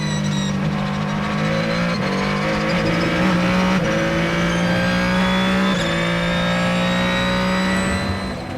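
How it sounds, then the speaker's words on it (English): WEC prototype race cars lap Sebring during qualifying for the 1000 Miles of Sebring. A loud, close, sustained engine howl rises in pitch and drops back at each gear shift, with tire noise underneath. "There are 3 cars on laps right now on course to better that time."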